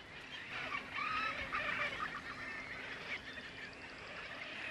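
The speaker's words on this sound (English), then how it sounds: "Boobies and frigate birds raise their young here." Seabirds at a nesting colony on Isla Isabel, boobies and frigate birds, call in a dense, continuous chorus of honking, squawking cries from many birds at once, with no speech.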